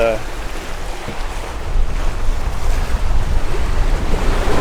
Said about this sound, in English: You can see the seas are coming a little behind us.